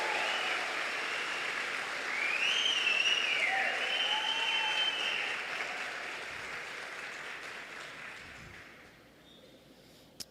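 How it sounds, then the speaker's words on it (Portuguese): Congregation applauding during a sermon, broad sustained clapping that swells then fades, with a whistle-like tone over it. "pode aplaudir, pode aplaudir."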